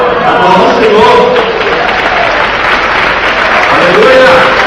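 A church congregation claps and cheers in praise during a sermon, a dense, loud wash of applause with raised voices and shouts mixed in that continues for several seconds.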